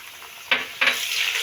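Tomato dropped into onions frying in a pan for kadhi pakora, two sharp splatters and hisses over a steady sizzle, close up with no talk.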